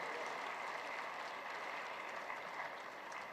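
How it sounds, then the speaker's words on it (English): Faint, distant applause fills a conference hall, a steady even patter of many hands clapping with no voices over it. "A big round of applause for this gentleman as well"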